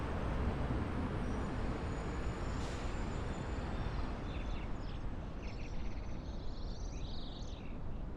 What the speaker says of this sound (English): I love the ambient sounds around here too, getting birds chirping and horns going from cars and whatnot.